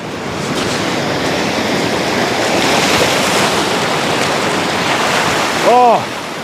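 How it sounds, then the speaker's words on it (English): Ocean waves break near shore rocks in a continuous loud roar of surf and spray, with wind buffeting the microphone and a brief whistle-like tone near the end. "Beautiful waves just out here."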